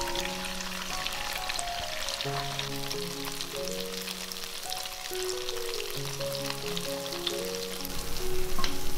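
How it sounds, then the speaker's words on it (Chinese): Tofu sizzles in hot oil in a home kitchen wok, a steady, close frying hiss that swells slightly toward the end, with faint sustained musical tones underneath. "等油温升高了再把豆腐放下来煎，这样才不会粘锅"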